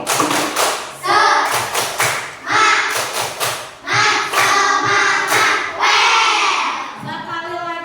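A group of children in a classroom perform a rhythmic clapping chant, sharp bursts of claps and thumps mixed with loud shouted voices, steady and close throughout.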